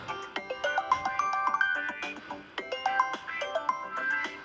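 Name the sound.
mobile phone ringtone, incoming call via Bluetooth on motorcycle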